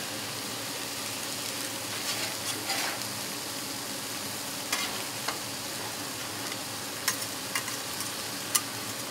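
Thick chicken pieces sizzle on an outdoor hibachi-style griddle top over a medium flame, a steady close hiss with scattered sharp clicks of a spatula scraping and stirring, no talking.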